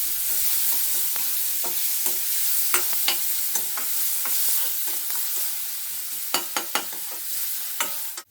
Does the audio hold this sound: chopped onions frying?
yes